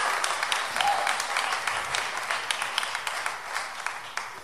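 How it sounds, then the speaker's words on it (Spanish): Church congregation applauding to God during a bilingual Spanish-English sermon, a steady wash of many hands clapping at moderate distance, fairly soft and even throughout. "Give wow. An applause to God in there."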